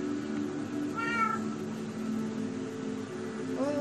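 Two short, clear meows from an ocelot cat in Minecraft, one near the start and one at the end, sounding over a constant low game ambience with no voices.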